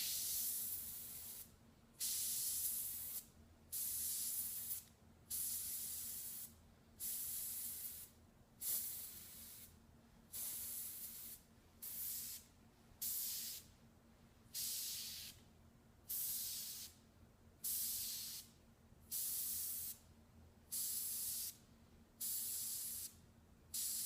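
Airbrush spraying paint in repeated bursts of steady hiss, about fifteen evenly spaced passes each lasting roughly a second, separated by short pauses, close and moderately quiet.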